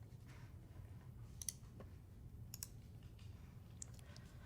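A computer mouse clicks a few times, sharp faint ticks spaced irregularly over a low steady hum from a desktop setup.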